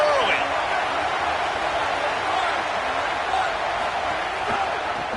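Continuous dense roar of a stadium crowd at a college football game, a broad wash of cheering and chatter filling the whole stretch without breaks, with a commentator's voice faintly under it.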